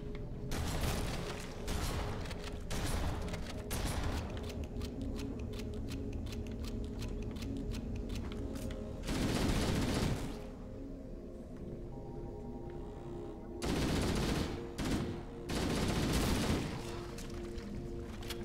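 Gunfire in Halo: The Master Chief Collection, with dense rapid bursts of shots and booms coming in several separate volleys between quieter stretches of mechanical clatter and hum, loud and close, no talk.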